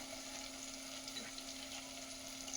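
Ginger garlic paste and ground masala frying in a pan, giving a steady, close sizzle with light stirring and a constant faint hum underneath.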